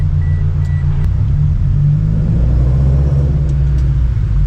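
A Subaru BRZ's flat engine rumbles low and steady from inside the moving car, a continuous deep burble with a slight swell in revs partway through and no talking.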